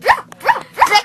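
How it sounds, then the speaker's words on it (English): A dog barks three times in a steady rhythm, close and loud, each bark short and sharp with brief quiet gaps between. "would not stop barking"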